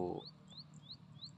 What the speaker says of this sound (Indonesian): Entah itu ada suara burung ya, burung apa